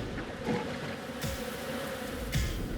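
Buzzing bees attacking in the video game Phobies, a continuous insect drone with a few sharper swells and clicks riding over it.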